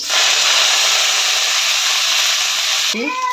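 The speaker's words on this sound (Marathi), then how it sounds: "अशी छान अशी तेलात परतून घ्यायची" Coriander leaves sautéing in hot oil in a home kitchen, a loud, steady close sizzle that holds throughout, with a brief stirring clatter near the end.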